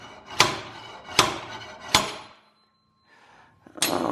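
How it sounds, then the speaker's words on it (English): A slide hammer strikes three times in a steady rhythm while pulling the wheel bearing from a 1995 Impala SS, each sharp metallic clank close and loud with a short ring, followed by a pause and another hit. "all we do is just use a slide hammer, and now just pull the bearing out."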